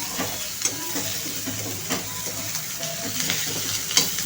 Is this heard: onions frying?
yes